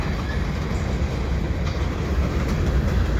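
Freight train with old Burlington Northern cars rolling past in winter, a loud continuous rumbling roar of wheels and cars filling the whole short stretch without pause.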